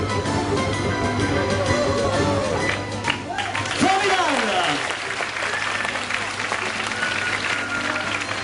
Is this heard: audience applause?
yes